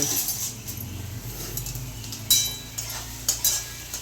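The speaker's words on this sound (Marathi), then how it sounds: "इथे भेंडी फ्राय करून घेते आई पहिले भेंडी हलक फ्राय करून काढून घेतलेली आहे" Okra frying in oil in a home kitchen pan while being stirred, a steady close sizzle under scraping and clinking of a utensil against the pan, with a few sharper scrapes.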